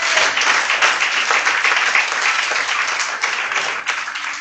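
Church congregation applauding, a sustained dense wash of clapping from many hands that stays loud and even throughout, filling the room.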